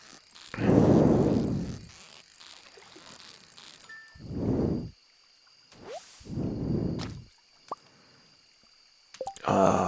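Stardew Valley river fishing sounds: several bursts of splashing, bubbling water, each about a second long, separated by quiet gaps, with brief clicks and chimes from the game between them.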